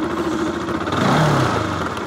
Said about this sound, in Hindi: तो गाइस मैंने कर लिया बाइक को स्टार्ट और बाइक को आइडियल पोजीशन में रखते हुए